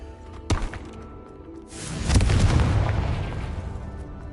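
A Confringo fire spell blasting in Hogwarts Legacy: a sharp crack near the start, then a louder booming burst that rumbles and slowly fades, close and with no talking.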